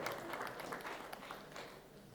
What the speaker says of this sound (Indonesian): kita beri tepuk tangan buat pastor